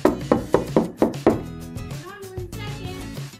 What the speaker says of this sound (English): So let's knock.